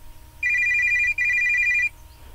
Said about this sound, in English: Ring tone, pick up the phone.